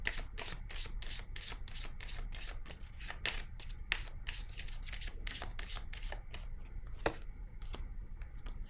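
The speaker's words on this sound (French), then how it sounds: "Je vais déposer une autre carte ici." Tarot cards being shuffled and laid down, a dense run of crisp riffling and slapping card strikes repeating close by and at moderate volume, with no voices.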